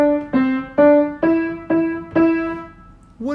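Six sustained melodic notes on a single keyboard-like instrument, played solo and evenly, rendering the Mary Had a Little Lamb line as read in alto clef, with a short attack starting at the end.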